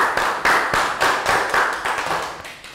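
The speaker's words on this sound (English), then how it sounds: "round of applause" Classroom of Year 3 pupils giving a round of applause, a few scattered claps with distinct individual hits over nearly three seconds, fairly close and fading toward the end.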